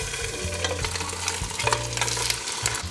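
A pound of mild Italian sausage fries in two tablespoons of olive oil in a pan, a dense close sizzle under background music, with light scraping from stirring.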